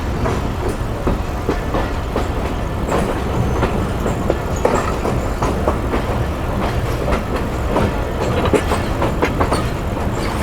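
On a Millat Express journey from Faisalabad, another train runs on the adjacent track alongside, producing a continuous loud rumble with rhythmic clickety-clack of wheels throughout.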